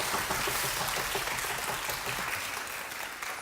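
Audience applause at a children's composition recital, a steady wash of many hands clapping continuously at moderate volume, sustained and gradually thinning slightly toward the end.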